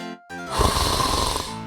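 A vampire character in the video game No Rest For The Wicked snores in one long, loud, rattling breath, close and alone, with no talking over it.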